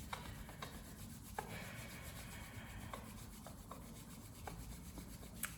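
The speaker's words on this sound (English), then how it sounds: "bring the palms of our hands together. Again, vigorously rubbing" Palms rub together vigorously in a steady, close swishing friction, with faint brief scuffs repeating through the stretch and no talking.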